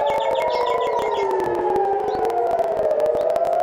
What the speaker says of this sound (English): the short footage of the air raid sirens in Haifa.